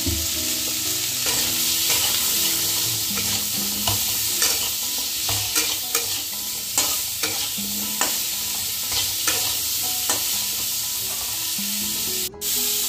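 Potatoes and kohlrabi frying in a pan with salt, turmeric and cumin, for a thin katla fish curry, the spoon scraping and stirring steadily through a continuous sizzle, close and loud without speech.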